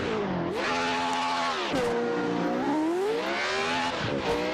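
Lotus 49 race car engine in the SingleRacer video game, a loud, harsh multi-cylinder howl rising and falling through repeated revs and gear changes, close and dominant with no talking.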